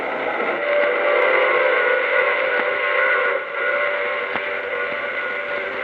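A steady, loud steam train whistle fills a radio drama scene, one sustained harmonic blast over a rumbling railway background, with no talk.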